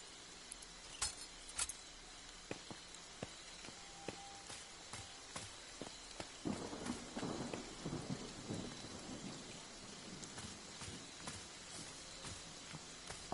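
Rain and thunder in the survival horror video game Friday the 13th: The Game, a quiet steady patter with scattered sharp drips and a rumbling swell of thunder midway, heard alone without talk.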